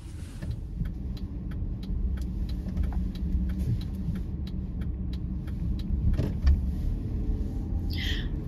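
A car drives slowly through a residential subdivision with a steady low engine rumble and road noise, a faint regular ticking like a turn signal running throughout, heard from inside the vehicle.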